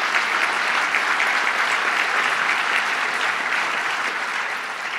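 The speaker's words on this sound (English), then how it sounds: "Let's give him a round of applause." A large audience gives a loud, sustained round of applause at a New York City policy address, dense clapping holding steady for several seconds before easing slightly at the end.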